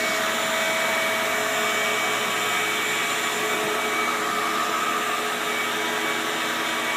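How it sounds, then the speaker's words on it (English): A dust collector runs in a woodshop beside a drum sander, a loud, steady, unbroken roar of rushing air and motor whine that stays constant throughout. "I'm gonna go start the dust collector so we won't have any dust."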